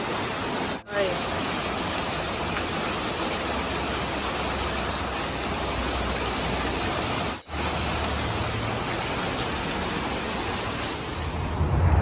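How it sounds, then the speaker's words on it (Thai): Steady rain pouring down in Texas just after a hailstorm, a dense, even hiss that runs close and constant throughout, broken only by two very brief dropouts. "เหลือแต่น้ำเหลือแต่น้ำฝนแล้วทีนี้"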